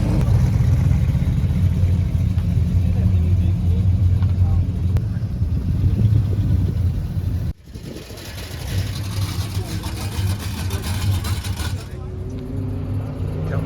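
Chrysler race cars rumble around the Murray circuit on a warm-up lap, a steady loud engine drone with a brief break midway, while people talk over it nearby.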